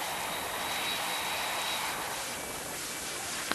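A passenger airplane produces a steady, even engine roar with a broad rushing hiss that holds at constant loudness throughout, with no voices.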